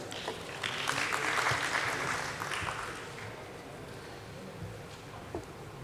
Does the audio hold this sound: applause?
yes